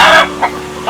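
A chicken clucks close and loud, one long squawk followed by two short clucks, with no talking over it.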